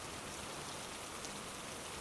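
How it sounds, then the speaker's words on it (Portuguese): Heavy rain pouring down, a dense uniform hiss of falling water spread across the whole stretch, fairly soft and steady with no gaps and no voices. "A chuva caía bem forte sobre mim."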